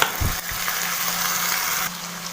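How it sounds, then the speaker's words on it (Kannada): Chopped vegetables, likely beans for a Kannada-style beans and green gram palya, drop with a soft thud into onions already frying in a pan, followed by a steady, even sizzle that continues alone to the end. "ಈರುಳ್ಳಿ ಎಲ್ಲ ಚೆನ್ನಾಗಿ ಫ್ರೈ ಆಗಿದೆ ನಂತರ ತರಕಾರಿಗಳನ್ನ ಹಾಕೊಳ್ತಾ ಇದ್ದೀನಿ"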